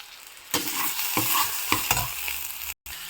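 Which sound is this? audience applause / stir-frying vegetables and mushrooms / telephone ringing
stir-frying vegetables and mushrooms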